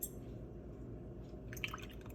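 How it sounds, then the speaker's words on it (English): Oat milk is poured into a cup of iced coffee, a quiet continuous pour with a small splash near the end, close and without talk. "And then the rest is the oat milk."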